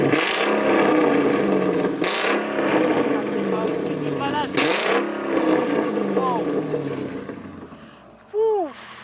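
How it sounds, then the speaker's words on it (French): A Mercedes fitted with a Rocket Bunny body kit revs its engine in loud, repeated bursts, each rise peaking about two seconds apart, with a sharp final blip near the end as a voice speaks briefly. "On va écouter le son du véhicule. C'est parti, accrochez-vous parce que ça fait du bruit."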